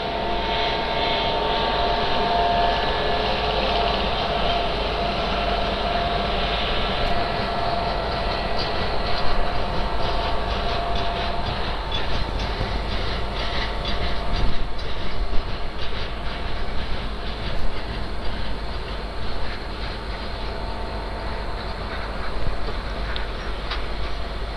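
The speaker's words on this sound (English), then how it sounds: "today this is VAG 9 going towards Vijayawada junction" A WAG-9 electric locomotive hauling a train on the Vijayawada bypass line near Vijayawada junction, heard as a steady, continuous rumble and rolling roar that swells slightly midway as it passes, with no talking.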